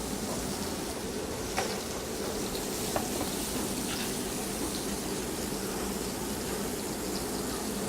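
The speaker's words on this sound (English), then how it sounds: "trying to sear it on both sides before we put it in the oven to finish it baking" Asparagus sears in a hot pan with a steady, close sizzle and crackle that runs unbroken throughout, with a few small pops rising above it.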